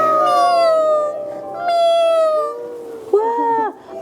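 Voices imitate a kitten's meow with drawn-out, high, wavering cries, followed by a short, sharper mew, loud and close.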